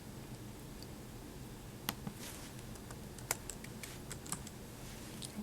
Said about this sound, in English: let's type expenses.